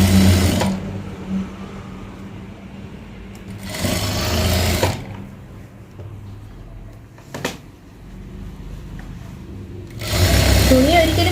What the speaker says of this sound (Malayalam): ഇതിൽ നേരെ വെച്ച് നമ്മൾ ഒരേ രീതിയിൽ ഇതിനെ സ്റ്റിച്ച് ചെയ്ത് കൊടുക്കും